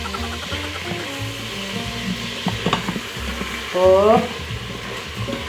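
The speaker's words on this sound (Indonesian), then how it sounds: "kita tumis daging bersama bumbu putih" Meat sautéing with white spice paste in a pan, a steady close sizzle and frying crackle with stirring scrapes throughout, under a brief spoken word.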